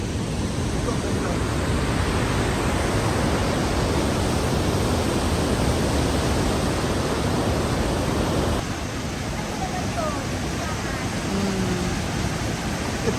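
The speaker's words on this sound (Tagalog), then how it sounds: "Ito yung second falls, lower, at saka pataas, andyan yung first." Crescent Falls in Alberta roars as a steady, dense wash of falling water, loud and continuous throughout, easing slightly toward the end.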